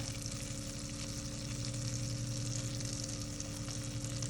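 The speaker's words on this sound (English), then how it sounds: "you definitely wanna make sure you see this sizzling action before you place your salmon" Steady hissing sizzle of salmon frying skin side down in a hot pan, continuous and close, with a low background hum and no talking.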